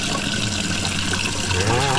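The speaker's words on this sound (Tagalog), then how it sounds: "Meron naman palang tubig, akala ko wala. Mahina nga lang kasi walang kuryente." A weak trickle of tap water running during a power outage, a soft continuous splashing with a voice talking over it.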